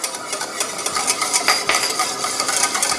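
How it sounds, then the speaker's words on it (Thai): Sesame oil and olive oil salad dressing being whisked in a bowl, a steady rapid scraping and clinking of utensil against the dish for a few seconds, close and fairly loud, with no voices. "อันนี้เป็นน้ำมันงานะคะ ตีให้เข้ากันค่ะ"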